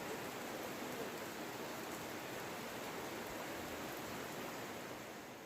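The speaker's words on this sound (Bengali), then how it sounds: "দেখুন, বাইরে বৃষ্টি পড়ছে, খুব জোর বৃষ্টি হচ্ছে।" Heavy rain falls outside in a steady, dense hiss that holds at an even level for the whole stretch, with no pauses or distinct drops standing out.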